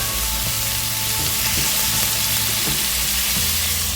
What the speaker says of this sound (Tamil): தக்காளி கொஞ்சம் வதங்கிட்டு வெங்காயம் கொஞ்சம் வதங்கிடுச்சு.